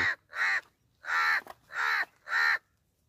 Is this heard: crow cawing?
yes